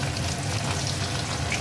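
Fish fries in hot oil with a continuous dense sizzle and crackle, close and even throughout the short stretch.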